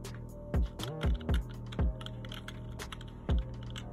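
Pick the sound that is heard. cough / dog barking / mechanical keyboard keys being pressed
mechanical keyboard keys being pressed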